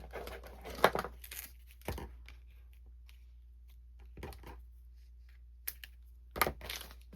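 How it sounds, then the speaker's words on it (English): Scissors snip and tear through an adhesive strip for hot foiling, a few short crisp cuts and crinkles spaced apart in a quiet room. "take these adhesive strips. Just cut one down."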